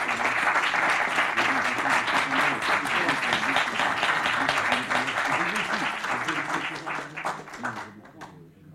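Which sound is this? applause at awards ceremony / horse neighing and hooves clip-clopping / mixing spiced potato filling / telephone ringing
applause at awards ceremony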